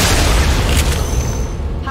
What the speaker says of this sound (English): so I might as well just shoot